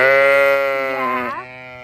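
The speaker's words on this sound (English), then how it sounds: "let's go see the sheep" A sheep on a farm gives a single long, loud bleat close by, wavering and then trailing off, with no talking.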